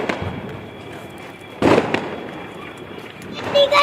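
Firecrackers burst during Diwali celebrations, several sharp cracks at uneven intervals with one loud close bang in the middle, against a background of outdoor noise.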